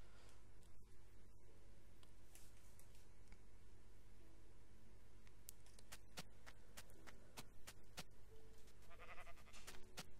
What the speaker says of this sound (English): That's sheep. I don't need a sheep.